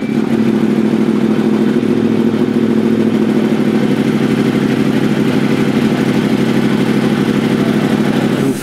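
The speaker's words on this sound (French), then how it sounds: "Vous faites chauffer la moto?" Racing motorcycle engine warming up at a cold Pau-Arnos track, a loud close steady idle with a throbbing low drone and faint revving, continuous throughout with no talk.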